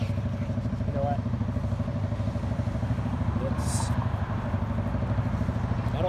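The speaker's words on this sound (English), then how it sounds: "I don't like that motorcycle there." A motorcycle engine runs steadily nearby on a film set, a continuous low mid-range drone with faint clatter throughout, while people talk over it.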